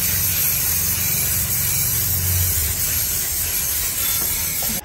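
Aerosol spray paint can hissing in a steady, loud continuous burst during a bedroom makeover, close up and without pauses, no talking.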